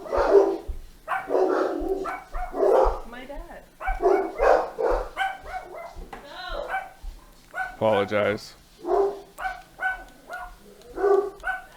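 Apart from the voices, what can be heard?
dogs barking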